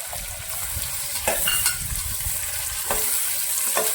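Sliced onions frying with cashews and cumin seeds in hot oil in a pan, a steady close sizzle with occasional stirring scrapes, no talking.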